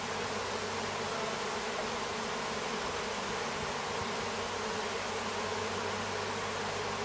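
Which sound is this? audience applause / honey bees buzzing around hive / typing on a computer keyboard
honey bees buzzing around hive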